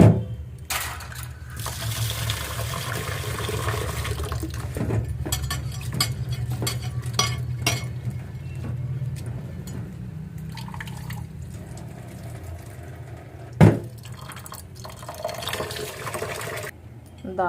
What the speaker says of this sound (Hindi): अब दाल धो लेते हैं।